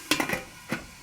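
Pot being covered with its lid while cooking red lentil soup on a stovetop: a quick cluster of light metallic clinks and taps, then two more isolated clatters, close and fairly quiet.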